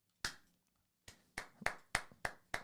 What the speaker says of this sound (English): Round of applause, honestly, for Nathan on that one.